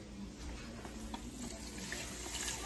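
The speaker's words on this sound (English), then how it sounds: "we're just gonna add this whole thing of beef broth" Beef broth poured into a pot for goulash, a faint continuous liquid splashing and trickling over a steady low hiss, quiet and close with no talk.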